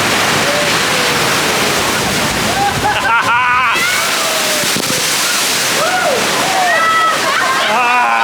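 Water splashes and rushes around a raft on the Kali River Rapids ride at Disney's Animal Kingdom, a steady loud wash with scattered splatters, while riders shout and talk over it.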